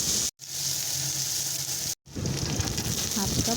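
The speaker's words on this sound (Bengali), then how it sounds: "প্রথমে একটা পেঁয়াজ নিয়ে নিলাম, সামান্য একটু তেল দিয়ে দিলাম" Onion frying in a little oil for dried salted hilsa bhuna, a steady crackling sizzle broken by two brief silent gaps, with faint kitchen clatter near the end.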